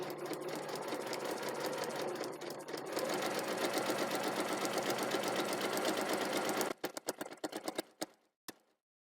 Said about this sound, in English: So I'm going to stitch along that line.